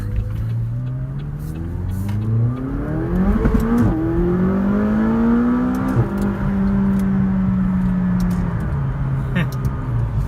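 A 2018 McLaren 570GT rear-drive supercar accelerates hard from close by, its engine note climbing and dropping through quick gear shifts, loud and steady throughout.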